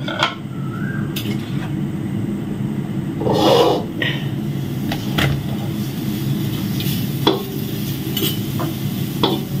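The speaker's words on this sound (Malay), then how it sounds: "Kita goreng sampai dia jadi kuning lah." Young jackfruit sizzling steadily as it fries in a hot pan, with occasional sharp clinks and scrapes of a utensil stirring against the metal.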